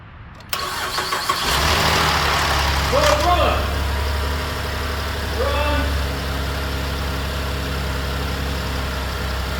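A 2015 Buick LaCrosse with a no-crank, no-start fault after a transmission replacement cranks briefly and catches, then settles into a steady, close idle with a low hum. Faint talk sits underneath.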